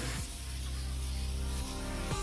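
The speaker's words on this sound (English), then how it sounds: "non-stick spray to the grease paper" Non-stick cooking spray hissing onto grease paper in a kitchen, a close, steady aerosol spray lasting about two seconds with no voices.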